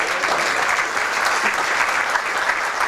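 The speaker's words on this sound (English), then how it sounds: "Let's give her a special round of applause" An audience at an athletic hall of fame induction breaks into sustained, dense applause for a secretary, loud and continuous throughout.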